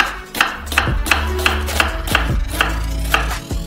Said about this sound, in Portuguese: Cortamos uma cebola grande ao meio. Fazemos cortes transversais.